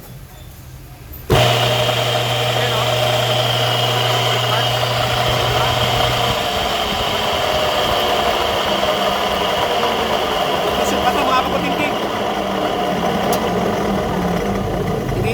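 A steady electric motor hum of an ice cream machine starts abruptly after a moment of quiet and runs continuously at an even level, with a low tone fading partway through.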